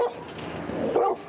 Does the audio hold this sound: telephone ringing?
no